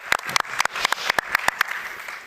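A small live podcast audience claps for the guests, a sparse burst of separate hand claps that stays fairly close and fades over about two seconds, with a few voices murmuring through it.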